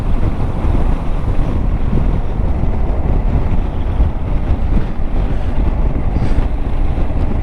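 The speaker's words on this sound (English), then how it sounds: "Quite a bit of wind in these tunnels." Heavy, steady wind buffeting a rider on a Yamaha Tracer 7 motorcycle through road tunnels in Gran Canaria, a loud continuous roar with deep low-end rumble that never lets up.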